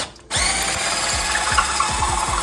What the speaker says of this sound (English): This is where you wanna drill a hole so you can start inserting your fittings for your brake lines.